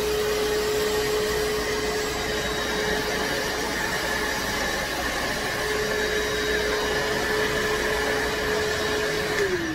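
A Craftsman 3HP shop vacuum runs with strong suction, a loud steady motor roar and airflow hiss with a constant whine, continuing alone before winding down at the very end.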